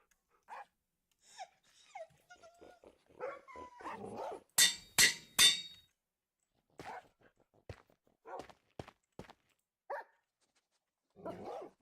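Several dogs barking in Minecraft, a string of sharp separate barks and yips with brief whimpers, a loud burst of three close barks in the middle, then scattered single barks spaced out over near silence.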